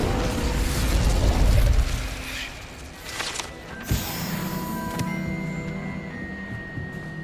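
The Incendio fire spell cast in the video game Hogwarts Legacy bursts with a low whooshing blast, followed by crackling and a sharp pop, then sustained mechanical and magical shimmering tones; no talking.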